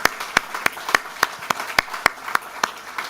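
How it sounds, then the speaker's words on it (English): At a reception in Australia's historic first parliament house, sharp claps ring out in an even, steady rhythm, roughly three per second, close and distinct over a faint room background. "Let's give him a big round of applause to welcome him formally."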